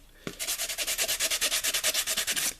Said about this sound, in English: you might need to spend a little more time with the sandpaper to try to get that clear